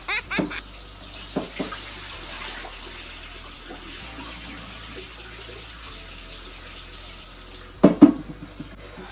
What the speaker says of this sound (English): let me finish washing this rice